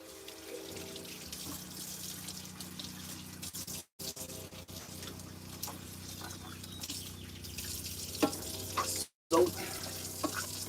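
Water runs steadily from a tap into a sink in a home kitchen, a continuous broadband hiss with two brief cuts in the middle.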